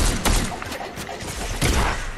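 Gunfire in the video game Fortnite crackles in short bursts of sharp shots, loud and close, with brief gaps between volleys.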